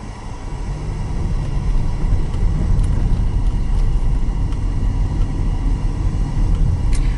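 Car driving slowly on a rough sandy dirt road around a lake near Interlachen, Florida, a steady low engine rumble with road noise and occasional faint knocks from the bumpy surface, no talking.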